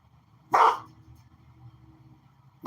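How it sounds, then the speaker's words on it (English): A single sharp dog bark rings out nearby, followed by quiet background hum, with the start of another bark cut off at the very end. "Hey, stop barking."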